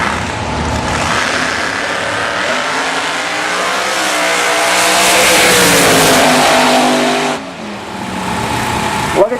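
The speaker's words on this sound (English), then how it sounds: "Cunningham in the Camaro. Barnacle in the Chevy Monte Carlo." A Camaro and a nitrous-fed Chevy Monte Carlo drag race at a dragway, engines roaring loud and rising in pitch as they accelerate away, then cutting off sharply, with an announcer's voice over the noise.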